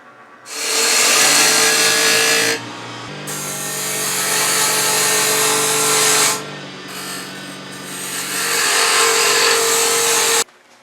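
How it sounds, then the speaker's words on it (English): Wood on a lathe is cut with a bowl gouge, giving loud, close, continuous rasping and hissing in long stretches. A steady motor hum runs beneath, with brief quieter gaps between passes. "some people use bowl gouge. Get the tool, ride the bevel."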